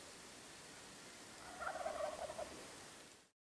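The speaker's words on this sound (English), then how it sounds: "within 10 minutes of settling in, we were hearing gobbles" A single wild turkey tom's gobble rattles out at moderate distance over a quiet, hissy outdoor background, then the sound cuts off.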